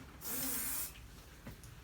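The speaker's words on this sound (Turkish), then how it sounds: "tabii ki spreyle çalışmam lazım" A spray can releases a single short hiss of about half a second, close and fairly loud, while working on a hayal tül fabric headscarf, then quieter rustling follows.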